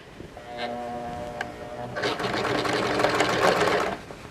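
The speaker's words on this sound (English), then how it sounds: "You'll be able to see your stitching, so you start with put your needle down into where you stopped your stitching previously." A sewing machine stitches a princess-seamed western show jacket, starting with a few slow clicks before settling into a steady, close whirring run of stitches that stops near the end.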